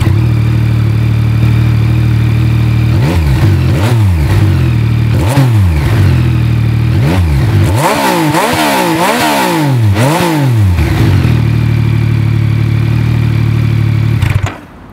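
Yamaha XSR900 motorcycle engine idling loud and close, then blipped through a string of quick sharp revs that rise and fall in a rapid cluster before settling back to a steady, throaty idle.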